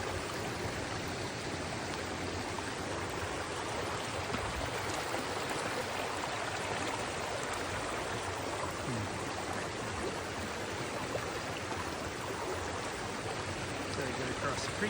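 Creek water flowing in the remote British Columbia backcountry, a steady, full rushing hiss close by that stays even throughout, heard on its own.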